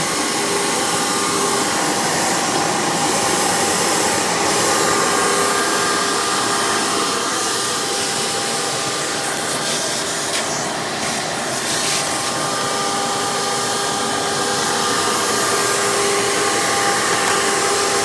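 Hoover PowerMax II upright vacuum with a 12 amp motor and 20 blade fan, running steadily and loudly as a constant whooshing roar with a faint tonal whine, alone with no talking throughout.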